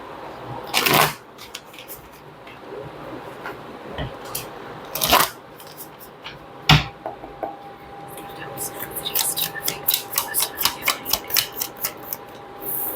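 Tarot cards being shuffled by hand, with a few sharp riffling bursts early on, then a rapid run of rhythmic card flicks and slaps toward the end, close and fairly loud.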